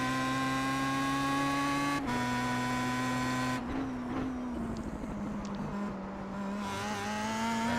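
A Pro Mazda race car engine in iRacing drones loud and steady at high revs on the Bathurst circuit, with a clear tonal whine, a gear change drop at two seconds and a ragged, shifting note after.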